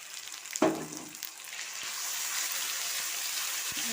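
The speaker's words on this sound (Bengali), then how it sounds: "এখন আমি এই যে মশলাটা বেটে রেখেছি, সেই বাটা মশলাটা দিয়ে দিচ্ছি।" Ground paste of cumin, chillies, ginger, garlic and onion dropped into hot oil for a rohu fish curry, an abrupt splash then a steady hissing fry with occasional faint taps.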